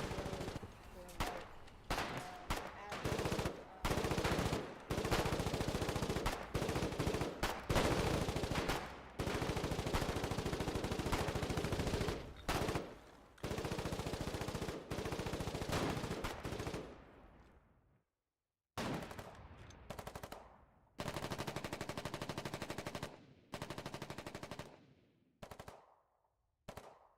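Gunfire in the war game Foxhole, sustained machine-gun bursts and rapid rifle shots at close range, loud and dense with brief pauses between volleys and near-silent gaps toward the end, a voice talking under it.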